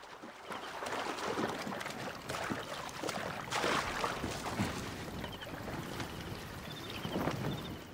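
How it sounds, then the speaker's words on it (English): A boat moves across open water in the video game Assassin's Creed Origins, with continuous splashing and wash, wind noise and intermittent sharper water slaps over several seconds. "Oh, there's a boat I could take over."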